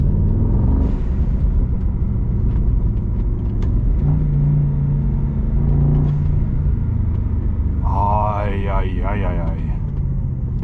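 A Brabus SL GTS Rocket wagon's engine drones and rumbles steadily at close range, building and shifting in pitch as it accelerates on a drive, with voices talking over it near the end.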